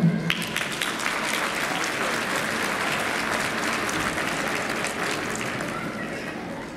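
Audience applause at a school Christmas concert, steady and sustained clapping from a large crowd across the whole stretch, fairly close and even in level.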